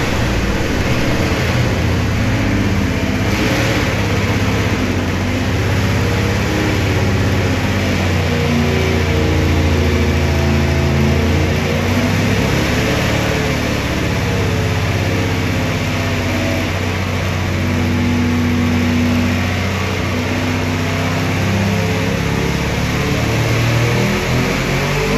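An alcohol-burning big block Chevy engine runs steadily on a dyno during tuning, a loud, dense, continuous roar with a deep rumbling drone that holds nearly constant throughout.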